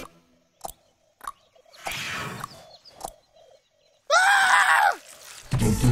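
A cartoonish character in the video game Crash Twinsanity lets out shrill, wavering screams while fleeing, with short bursts separated by gaps, alongside clattering game effects and a sharp noise burst at the end.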